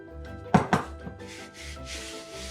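A wooden rolling pin rolls over floured mince pie pastry on a board, with two sharp knocks of the pin followed by soft rubbing, rolling strokes at close range.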